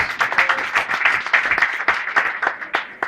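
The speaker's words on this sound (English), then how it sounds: "A round of applause." Audience applause at a university faculty anniversary ceremony, a dense, steady round of clapping from a crowd sustained throughout at strong volume.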